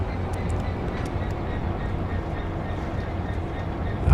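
A freight train in Train Sim World rumbles steadily along the rails with a low, continuous drone and faint clicks from the track, rising slightly at the end.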